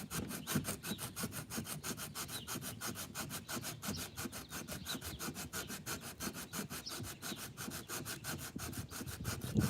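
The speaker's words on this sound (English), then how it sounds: "I just put a piece of sandpaper around it." Sandpaper wrapped around a file rasps back and forth against wood in quick, even strokes, a steady close-up scratching rhythm repeated without pause and no voices.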